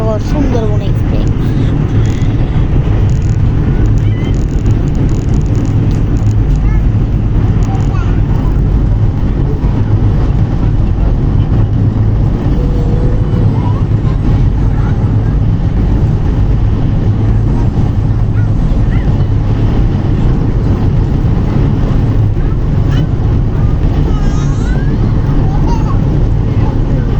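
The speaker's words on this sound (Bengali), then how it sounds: "আমাদের ট্রেন কিন্তু ঝড়ো গতিতে চলছে এবং এই সেকশন পুরো কাঁপিয়ে বেড়াচ্ছে আন্তনগর সুন্দরবন এক্সপ্রেস" The Sundarban Express intercity train runs at high speed, with a loud, constant roar and rumble of wheels and wind filling the whole stretch and steady clatter underneath.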